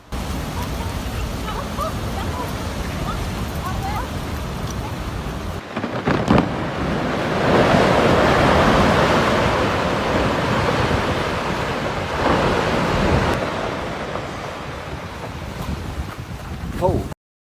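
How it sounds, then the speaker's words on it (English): Waves surge from massive ice calving off into the water, a loud broadband roar that swells sharply partway through, peaks, then slowly eases back to a steady churning rush. "When they collapse, the waves they create can be much faster, stronger, and more dangerous than they first appear."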